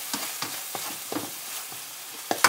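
Canned fish being stir-fried and pressed in a hot pan for fried rice, a steady close hiss of frying with repeated soft scraping strokes of the spatula at a regular rhythm and no voices.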